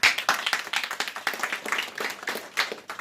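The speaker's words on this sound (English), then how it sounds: "please join me around in applause for my mom" Audience at a dad's retirement celebration claps for the speaker's mom, a short burst of close, crisp applause from a modest group that thins toward the end.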